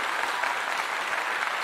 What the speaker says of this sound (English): give you all a clap